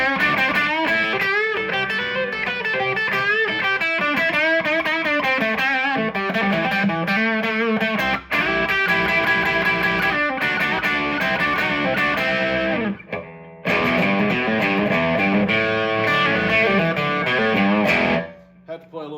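A 1996 Gibson ES-175 hollow-body electric guitar with P-90 pickups plays chords and riffs through heavy distortion, loud and sustained, with brief pauses near 8 and 13 seconds before ringing out at the end.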